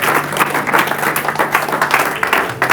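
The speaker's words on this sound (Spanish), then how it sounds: "Dele ese aplauso a Jesús." A church congregation applauds together, dense clapping sustained and loud throughout, with a steady low hum and faint voices underneath.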